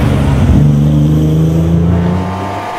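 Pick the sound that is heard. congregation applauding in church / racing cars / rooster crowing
racing cars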